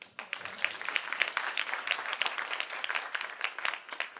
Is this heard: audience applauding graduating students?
yes